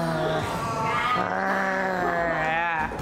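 A voice imitates a bear with a drawn-out, voiced growl. The sound is close and sustained, wavering in pitch for a few seconds.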